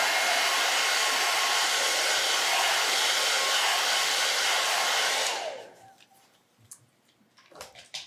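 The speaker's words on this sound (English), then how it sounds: "I'm gonna go ahead and dry it with the blow dryer and just to have it stick a little better." A blow dryer runs steadily and loudly while drying fabric paint on a stenciled beach bag, then cuts off after about five seconds, leaving quiet room sounds and a few faint clicks.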